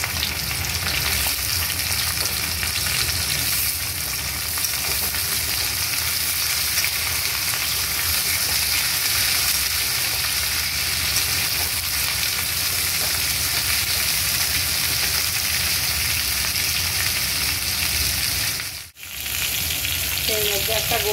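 Drumsticks (sajne danta) and potatoes fry in a pan with a constant crackling sizzle and hiss, steady and close for the whole stretch, with one brief sharp clatter near the end.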